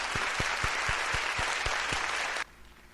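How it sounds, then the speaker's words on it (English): A warm round of audience applause thanking True Mother at an HJ CheonBo Special Workshop: dense, loud, steady clapping from a large crowd that cuts off sharply after about two and a half seconds, leaving quiet room tone. "Let us thank True Mother once again with a warm round of applause."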